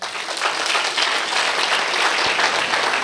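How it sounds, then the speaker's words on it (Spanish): A church congregation applauding together, a dense, steady wash of many hands clapping from fairly close, sustained at even loudness throughout with no talking. "Denle un aplauso al Señor."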